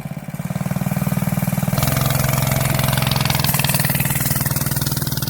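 CRZ Racer 100cc go-kart engine running loud and close, a buzzing mid-pitched drone that steps up in revs as it accelerates, then holds a steady fast throttle with fluttering pulses.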